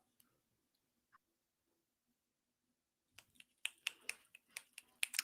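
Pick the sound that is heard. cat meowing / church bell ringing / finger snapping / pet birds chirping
finger snapping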